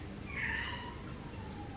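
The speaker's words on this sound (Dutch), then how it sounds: "Voor zo'n grote kat heeft hij echt zo'n lullig mouwtje." A large cat gives a short, thin meow, surprisingly small for its size, heard once at moderate distance over a quiet indoor room tone.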